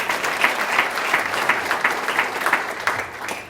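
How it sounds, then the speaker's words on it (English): An audience at a Martin Luther King Jr. breakfast claps in a steady, dense round of applause, moderately loud and without voices on top. "Let's give her a round of applause."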